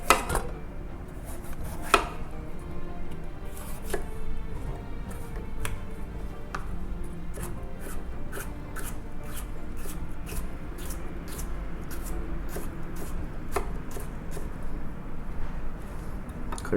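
A knife chopping red pepper on a board for lobster pineapple fried rice, with rapid, even, close knocks repeating steadily over a constant low background hum.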